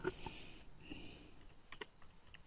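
Rapid, uneven keystrokes on a computer keyboard as a chat message is typed, a steady close clatter of clicks with no talking.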